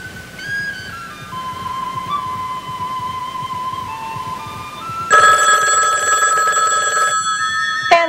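A telephone rings in a drama scene, starting as soft electronic tones and then breaking into a loud, sustained bell ring that continues for a couple of seconds.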